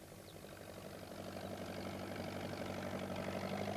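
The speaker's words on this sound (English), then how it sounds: "Peter Fogg came along on his tractor" A tractor engine chugs steadily, low and rumbling, growing slightly louder as it draws nearer, with no voices.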